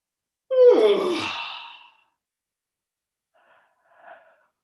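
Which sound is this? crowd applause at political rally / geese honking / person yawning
person yawning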